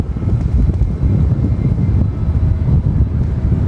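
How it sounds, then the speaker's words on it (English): An American Airlines A321 takes off from runway 18 left at Dallas Fort Worth airport, a loud, steady, low roaring rumble with wind buffeting on the microphone, continuous throughout and without voices. "Cleared for departure on 18 left is American Airlines Flight 2459 heading to Los Angeles, LAX. It's an A321."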